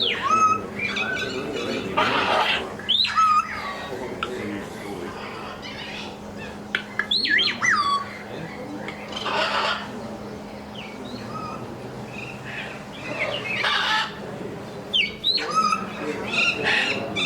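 A palm cockatoo flying in lets out repeated harsh squawks and sharp calls in an aviary setting, loud and close, scattered through the stretch with someone talking over them.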